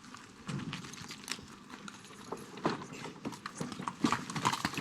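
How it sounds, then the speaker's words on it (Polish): A horse's hooves clip-clop steadily on a film set, a quick, uneven rhythm of light knocks heard at moderate distance over faint ambient noise with no talking. "Wyprzęgamy konia."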